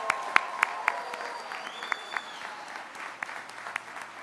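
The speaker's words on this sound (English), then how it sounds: "let's give them a round of applause" A room of family, friends and staff applauds graduates at a sports product management commencement ceremony in Portland, with continuous clapping, several sharp nearby claps and a faint whoop rising through it.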